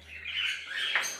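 A blue-series budgerigar parakeet gives short chirping squawks close by, a quick scratchy call with a sharper note near the end, quiet and brief, with no voices.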